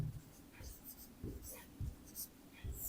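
Chalk or marker writing on a board during a physics lesson: a few short scratchy strokes in uneven bursts, close and quiet, with soft background murmur.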